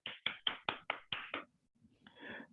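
A lecture class claps for a volunteer: about seven sharp, evenly spaced claps, fairly faint, followed by a brief soft rustle and murmur.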